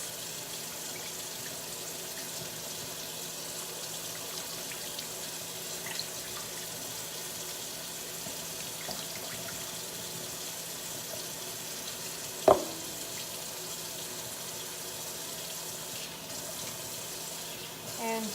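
Water runs steadily from a tap while a Yorkie dog is bathed, a soft continuous hiss with one brief sharp knock midway and small handling sounds.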